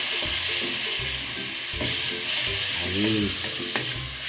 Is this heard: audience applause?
no